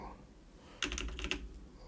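Computer keyboard typing in a quiet room, a short burst of several quick key clicks that starts partway in and then trails off.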